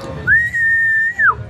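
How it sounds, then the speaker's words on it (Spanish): A person gives a single clear, sustained whistle at an amusement park ride, rising sharply, holding a steady pitch for about a second, then dipping at the end, with no talking. "el hondureño silba."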